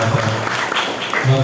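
Audience applause at a creators' meetup talk, a dense, loud wash of clapping throughout the short span, with faint voices mixed in.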